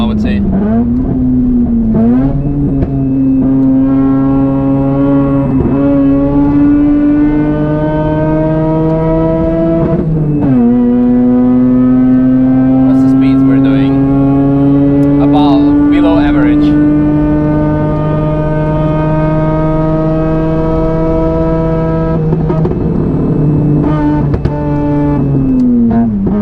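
A bridgeported 13B rotary engine in a Mazda RX-8 screams at high revs around the Nürburgring, its loud, buzzing pitch climbing through gears with sharp drops at each shift, while a voice speaks faintly over it.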